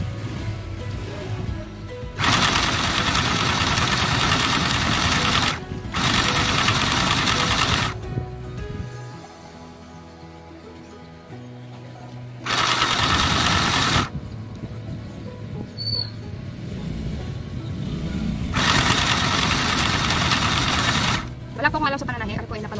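A mini sewing machine stitches a dress in loud, rapid whirring bursts of several seconds each, separated by quieter pauses with faint handling sounds.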